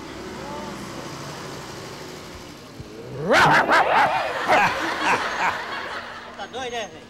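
A stuffed toy dog used in a hidden-camera prank lets out a burst of loud yips and barks after a quiet stretch, mixed with startled voices and laughter nearby.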